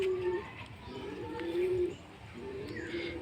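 A pigeon coos close by in a series of low, drawn-out, repeated calls with brief pauses between them, over a steady background hum.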